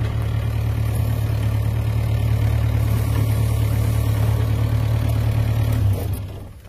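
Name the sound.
Yanmar B6Z mini excavator engine idling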